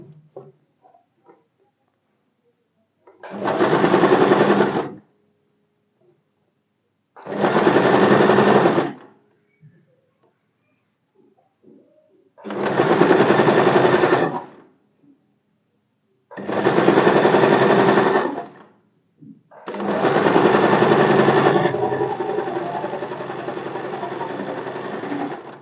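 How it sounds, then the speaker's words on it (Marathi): An electric sewing machine stitches the lining of a four-tuck blouse in five loud, even bursts of a few seconds each. Short pauses fall between them, and the last run trails off into a softer whir. "डबल स्टिच करायची."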